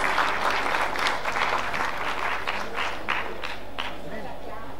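Film festival audience gives a round of applause for guests, steady crowd clapping carried throughout and gradually thinning, with voices faintly under it.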